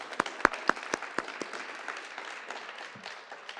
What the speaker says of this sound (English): Let's give another big round of applause for WICS Homes and Girls.